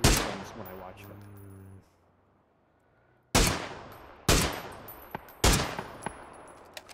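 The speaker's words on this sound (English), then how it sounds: "the bot was shooting at him" Gunfire from a bot in a video game: several loud, separate shots, each with a sharp crack and a fading echo. A quiet stretch with a low tonal hum comes before them.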